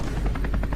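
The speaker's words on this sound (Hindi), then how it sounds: "कोई खुद को अक्षय कुमार समझ के हेलीकॉप्टर से फेयरवेल पे आ रहा है।" A helicopter arriving at a school farewell event in India, its rotor giving a steady, rapid chopping pulse under a loud, continuous engine roar, close and with no voices.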